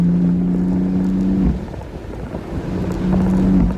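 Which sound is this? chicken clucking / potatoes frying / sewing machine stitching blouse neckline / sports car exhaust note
sports car exhaust note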